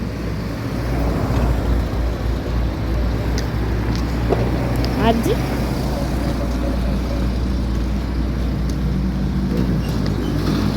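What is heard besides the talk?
cars and motorcycles driving by on a São Paulo street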